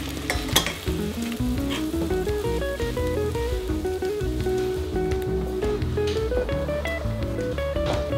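Potatoes sizzle and crackle steadily in a hot pan in a restaurant kitchen, with occasional clinks and soft music playing in the background.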